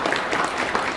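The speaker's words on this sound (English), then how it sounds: "So can we please give our county commissioners a big round of applause?" An audience at a legislative breakfast breaks into a short burst of dense, steady applause for county commissioners, many hands clapping at once.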